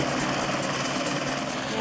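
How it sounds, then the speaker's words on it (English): Helicopter rotor wash during a beekeeper rescue, a constant loud broadband roar and thrum of downdraft filling the whole moment without pause. "They call the helicopter pilot in close, hoping the downdraft of the rotor wash will blow the bees away"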